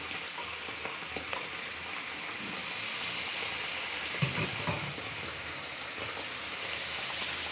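Spices and vegetables sauté in a pan for a dried-fish (shutki) dish, giving a steady, close hiss of frying with occasional soft stirring scrapes throughout.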